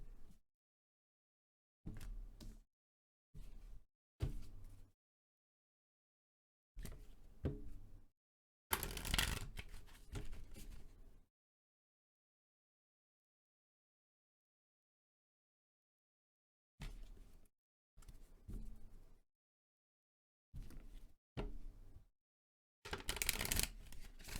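Tarot cards being riffle-shuffled in several short bursts separated by silent pauses, close and fairly quiet.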